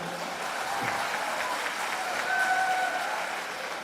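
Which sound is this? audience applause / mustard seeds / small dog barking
audience applause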